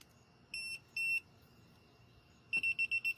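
A TESMEN TWS-322 wire tool beeps in sharp, clean tones as it senses live voltage: two short beeps, a pause, then a quick run of five evenly spaced beeps, with no talk.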